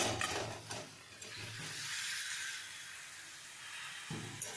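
Potatoes dropped into hot oil with kasuri methi give a bright, steady sizzle and hiss that swells and then holds, close and fairly quiet, with a few clatters at the start and end and no talk.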